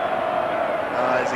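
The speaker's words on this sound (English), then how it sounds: "But listen to the crowd. They love him." A large football crowd at a 1984 VFL match between Collingwood and Footscray roars steadily in the stands for a player. The crowd noise is dense, continuous and fairly loud, rising slightly at the close.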